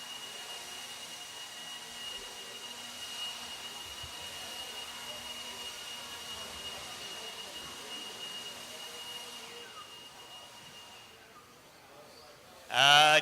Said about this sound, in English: marshals, grab your blowers. Start blowing off yours.